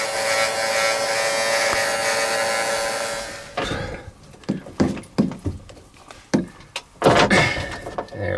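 On a Catalina 400 Mark II sailboat, a heat gun runs on low power to warm a washdown hose for removal, a steady buzzing whir that stops partway through and is followed by knocks and handling clatter.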